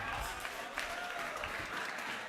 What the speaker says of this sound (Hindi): इन सबके लिए जोरदार तालियां बजाओ